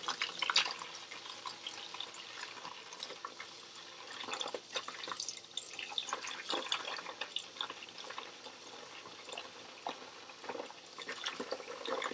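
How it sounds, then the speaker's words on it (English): Cold water pours and splashes into a basin for washing a wool swatch, with faint trickling, dripping and irregular sloshes, quiet and close, with no voices. "And we'll put some cold water in here."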